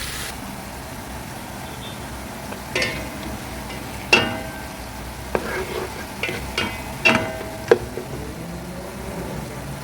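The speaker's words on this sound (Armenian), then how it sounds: "Այստեղ սոխը, գազարը ու դափնուտերևը միասին ճապակում եմ։" Onion, carrot and bay leaf fry together in a pan, a soft steady sizzle broken by several louder clinks and scrapes of stirring.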